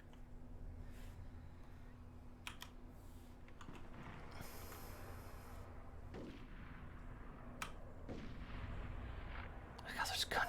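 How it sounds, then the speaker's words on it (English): Scattered gunfire in the Fallout 4 video game at an attacked settlement, several sharp distant shots spread irregularly over a quiet background hum, with a louder crackling burst near the end. "Oh my god, there's gunshots"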